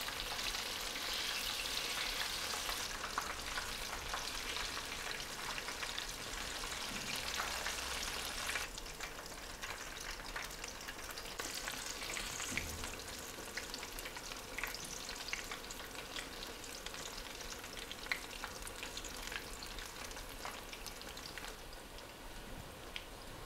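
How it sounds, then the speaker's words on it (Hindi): Mixed vegetable pakoras fry in oil over a slow flame, a steady, dense crackling sizzle with scattered pops that continues alone for the whole stretch, slightly brighter near the start. "पकौड़ों को फ्राई करते वक्त आपने एक बात का ध्यान रखना है कि फ्लेम आपने इसके नीचे स्लो ही रखनी है।"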